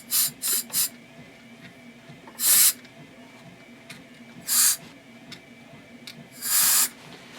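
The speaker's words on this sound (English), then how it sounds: "A little canned air." Canned air sprays in sharp hissing bursts to dry TRS-80 Model III computer parts after cleaning: three quick short blasts, then three longer ones spaced a couple of seconds apart, close and loud over quiet room tone.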